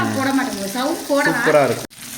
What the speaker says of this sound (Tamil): அப்படியே இந்த மீன் அப்படி பொரியற சவுண்ட் இருக்குல்ல பாரு